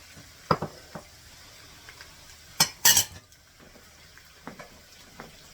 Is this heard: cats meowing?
no